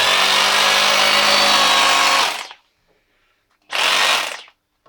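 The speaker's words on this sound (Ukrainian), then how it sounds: "І звук такий, свист якийсь присутній, якого немає в цих перфораторах" A Bosch GBH 2-28 F rotary hammer drill runs loudly for about two seconds with a high whistling tone, stops, then fires again in a short burst.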